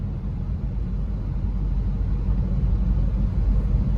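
A car engine hums in a low, steady drone after shifting into fourth gear at around 2000 rpm, a constant close interior rumble with no talk.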